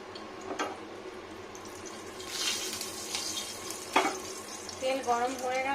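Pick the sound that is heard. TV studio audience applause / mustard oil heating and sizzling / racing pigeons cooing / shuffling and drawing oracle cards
mustard oil heating and sizzling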